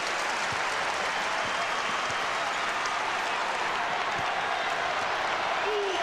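A college basketball arena crowd cheers and applauds in a steady roar during a Kansas home game against Iowa State in 2000, with a commentator's voice faintly under the noise.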